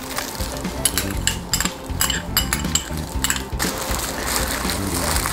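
Clinking and scraping of a utensil against a bowl while mixing soy sauce, sugar, garlic, ginger, cornstarch and oyster sauce for a Korean beef marinade, with repeated close metallic taps and no talk.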